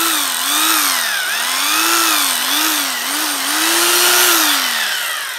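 A Hyundai H900 Expert rotary hammer running in hammer-drill mode, a loud, close, continuous whine with a rapid percussive buzz, its pitch wavering up and down as the load shifts, with no voices over it.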